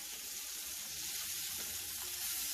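Salisbury steak patties browning in a pan, a steady, moderately loud sizzle and hiss throughout with no talking.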